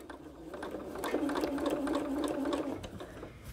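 A sewing machine stitches quilt seams in a fast, continuous whirring run that rises after a second and holds steady, with faint clicks of the mechanism at the start and end.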